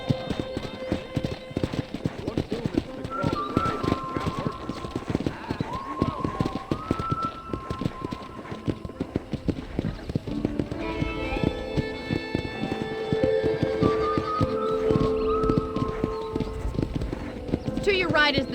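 Horse hooves clip-clop steadily on a ranch trail in the Red Dead Redemption video game, a brisk, rhythmic gait under sustained musical tones, with occasional whinnies and characters talking over it.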